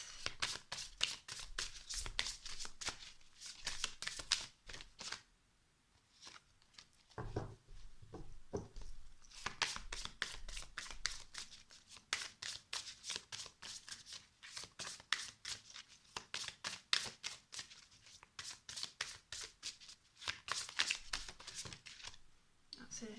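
A deck of guidance cards is shuffled and handled in repeated bursts of crisp riffling and flicking, close up, with pauses between bursts and a person talking softly at times.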